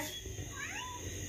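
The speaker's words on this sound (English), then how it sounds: "Where's Sarah, Mama Kitty?" A cat gives one drawn-out, wavering meow midway, fairly close, over a steady background hiss with no talking.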